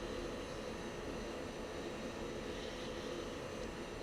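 An F-16 taking off in the Falcon BMS flight simulator, a steady low engine roar and hum that holds constant throughout at moderate loudness, with no voices.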